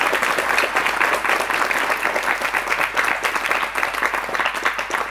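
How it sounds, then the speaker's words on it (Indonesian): An audience at an Islamic religious talk breaks into lively, sustained applause, many hands clapping close and loud in a rippling, uneven rhythm. "Mari kita berikan semangat dan tepuk tangan untuk Miftahul Ulum."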